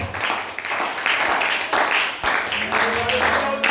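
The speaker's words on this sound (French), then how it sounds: "Donnez-moi les mains d'acclamation au Seigneur." Church congregation clapping hands in rhythmic bursts at a worship service, with voices mixed in throughout.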